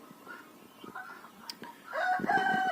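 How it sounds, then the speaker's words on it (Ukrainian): Chickens let out into a farmyard give a few soft clucks, then a louder rooster-like crow rises near the end, fairly close against a quiet outdoor background. "А курочок я випустила на двір, і вони в мене ходять"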